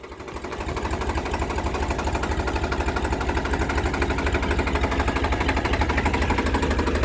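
A Farmtrac 45 tractor engine chugs slowly and evenly nearby, a steady rhythmic knocking beat that holds at a constant level with no voices.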